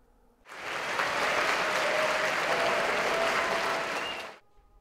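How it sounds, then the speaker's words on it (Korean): Soldiers at an army training center's Buddhist temple hall burst into loud, sustained applause and cheering for monks, a dense crowd clapping that swells in quickly, holds steady for about four seconds, then cuts off. "장병들이 스님들께 대웅전이 떠나갈 정도의 환호성과 박수갈채를 보냅니다."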